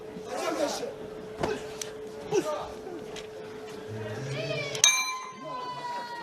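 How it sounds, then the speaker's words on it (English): The round bell rings at a heavyweight boxing bout, a bright metallic clang with a lingering ring near the end, under crowd noise and a commentator talking throughout. "Well, there goes the bell."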